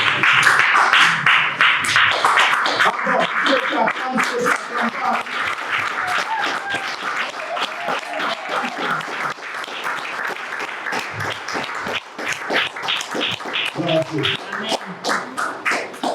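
A church congregation claps and cheers at length, a dense rolling applause that swells and eases over shouted voices and a preacher speaking.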